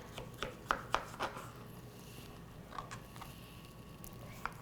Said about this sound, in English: I'm also going to thinly slice a small cucumber.